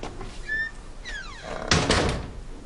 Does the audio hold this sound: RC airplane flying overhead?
no